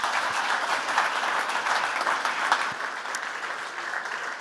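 An audience at a podcast interview event claps in steady, dense applause that holds for several seconds at an even level, with no voices standing out.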